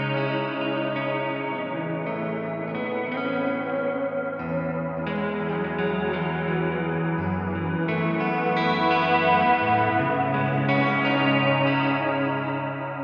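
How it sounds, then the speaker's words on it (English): A sustained, heavily effected electric guitar chord washes out in a long, spacious reverb tail, with shimmering chorus-like echoes and no voices. "reverb really, without going into detail, is making it sound like you're playing in this huge big hall"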